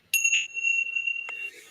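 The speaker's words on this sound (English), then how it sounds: "Hold on, I got a little bell for that." A small hand bell struck once, then a second time after a pause, each ring bright and piercing with a long shimmering decay, close and clear in a quiet room.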